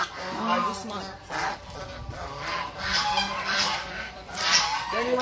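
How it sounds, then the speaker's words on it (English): African and Chinese geese at a bird park in the breeding season give repeated loud, nasal honks, some near and some farther off, overlapping steadily throughout, with people talking beneath them. "So, that's a African geese and Chinese."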